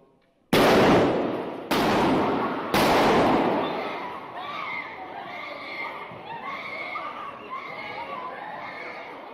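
Three loud, sharp gunshots ring out in quick succession inside a church in Texas during a live-streamed service, each leaving a long reverberant decay, followed by confused noise and faint voices.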